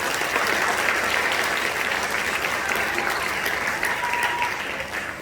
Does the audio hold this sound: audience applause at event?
yes